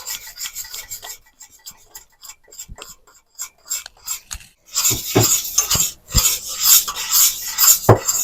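Flour being stirred into boiling water in a pot gives a scraping, rasping run of spoon strokes against the metal, sparse and light at first, then louder and busier in the second half, with a few sharp knocks.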